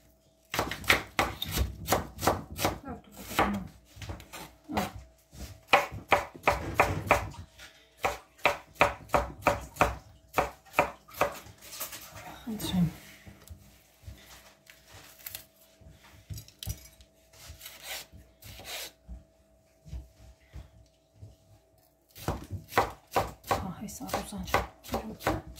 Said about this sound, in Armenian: Պիպար էլ կտրատենք։